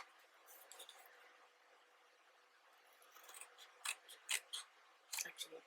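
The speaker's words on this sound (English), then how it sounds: "Actually, I shouldn't be using these scissors." Scissors cut through material for a box of giant playing cards, a few faint snips early, then a quick run of sharp, close snips and clicks after a quiet stretch.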